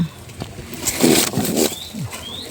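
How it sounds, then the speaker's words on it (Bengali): Domestic pigeons kept at home flap their wings in short fluttering bursts nearby, with a soft coo or two and light background noise. "এই যে আমার দেশি কবুতর আবার ডিম দিয়ে দিয়েছে"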